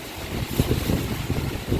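Strong typhoon wind roars and gusts around a house where rainwater is leaking through the ceiling, a deep rumbling, buffeting rush with pulsing surges close to the microphone.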